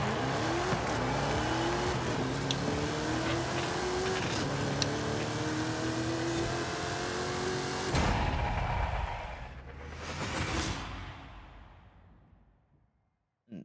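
A Plymouth Belvedere drag build in Forza Horizon 5 roars hard down the strip, its engine climbing through repeated gear shifts at full throttle before the revs fall away and fade to near silence.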